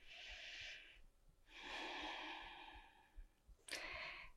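Deep, audible breaths during a stretching routine: a long exhale, a pause, a longer breath, then a sharp quick intake, close and breathy with no talking.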